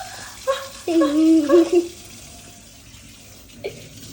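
Water runs steadily from a tap into an expensive kitchen sink, a soft continuous hiss low in the background, with a voice sounding briefly over it early on.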